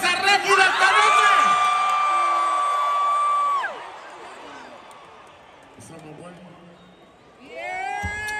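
A concert crowd cheers and whoops loudly, then the noise fades into quieter murmuring before swelling again near the end.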